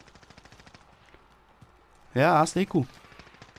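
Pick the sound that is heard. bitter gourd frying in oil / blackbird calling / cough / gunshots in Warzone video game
gunshots in Warzone video game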